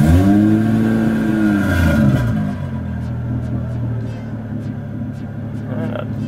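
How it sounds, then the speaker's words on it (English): Toyota 1JZ engine in an SC300 revved up from idle, rising and falling loudly nearby, then settling back to a steady, rumbling idle. "Let's give it a little gas and see how well she's doing."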